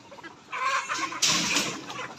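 Layer hens on a small poultry farm cluck in a steady, fairly loud flock chorus that swells after the first half second, with several birds calling over one another close by.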